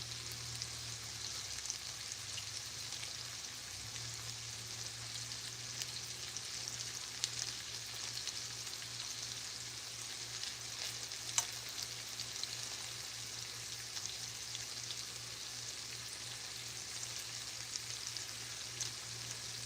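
Low carb food fries in a pan, a soft, constant sizzle with faint crackle and occasional pops, heard from close by with no talking.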